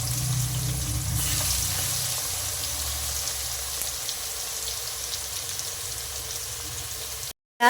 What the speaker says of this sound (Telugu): ఆయిల్ హీట్ అయిన తర్వాత చికెన్ ఇందులో వేసేసుకోవటమే.